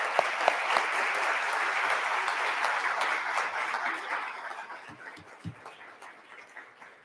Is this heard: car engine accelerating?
no